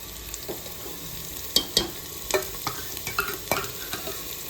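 A ladle stirs an onion and tomato paste tadka for aloo matar sabzi, scraping and knocking the pan in uneven bursts over a faint, steady sizzle.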